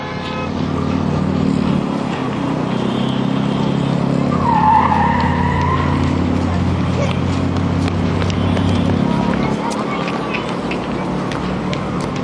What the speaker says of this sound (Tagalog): Nakapagpreno yung kotse.